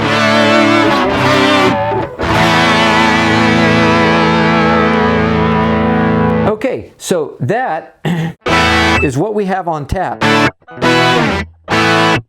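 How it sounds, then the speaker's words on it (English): A Roland VG-99 guitar synth plays a vintage-style vibrato fuzz tone: a thick, distorted sustained chord wavers for about six seconds, then someone talks over short bursts of playing. "They've tried to recreate that vintage vibrato effect."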